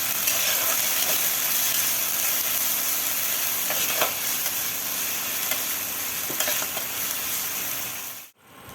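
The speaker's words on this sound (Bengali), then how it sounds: "এবার সব মশলাগুলোকে ভালো করে আমি কষিয়ে নেব।" Spices fry and get stirred with ginger and garlic paste in a pan for a clam curry, a continuous close sizzle with occasional scraping that cuts out abruptly near the end.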